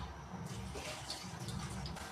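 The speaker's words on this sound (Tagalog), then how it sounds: "lagyan natin guys ng tubig." Water pours into a pressure cooker holding pork hock for paksiw na pata, a soft continuous splashing and filling that starts after a brief moment and runs steadily at low level.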